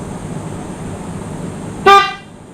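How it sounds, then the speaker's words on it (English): A single short motorcycle horn toot near the end, bright and harmonic, over a steady background hum of a fan or engine. "That's the normal horn."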